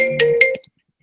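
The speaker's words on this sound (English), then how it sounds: "sorry, that was my phone" A mobile phone ringtone chirps a short melodic phrase of a few bright tones, close and clear, then cuts off into silence.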